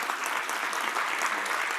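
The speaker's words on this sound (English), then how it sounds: "Round of applause, please." An audience at a panel discussion on a conference stage claps loudly and steadily as a speaker is welcomed up, a dense, even patter of many hands with no voices over it.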